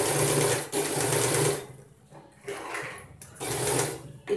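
Sewing machine stitching fabric for a phone pillow stand in loud close-up runs of rapid whirring, broken by short pauses between bursts.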